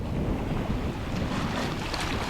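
Steady breeze at sea aboard the small sailboat Mingming II under a summer trade wind sky, heard as continuous broadband wind rush and microphone buffeting with a faint wash of water, no voices.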